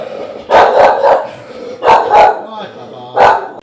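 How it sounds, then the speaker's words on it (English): Charlie the dog gives loud, close barks in three bursts: a quick double bark, a pause, another pair, then one final bark, heard indoors in a shop with aisles. "Charlie, don't bark, please."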